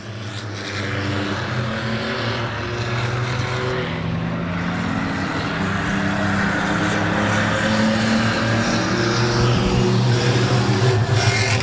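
Race cars lap Claremont Motorsports Park in an evening feature for the Avery Insurance 6-shooters, engines roaring loud and continuous with shifting tones as the pack passes, a steady dense wash throughout.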